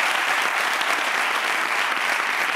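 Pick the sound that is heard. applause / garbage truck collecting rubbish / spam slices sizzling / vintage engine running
applause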